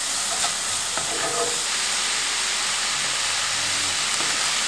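Garlic and onion stir-frying in a pan for nasi goreng, a steady loud sizzle and hiss with a few scraping stirs of the utensil near the start, no voices.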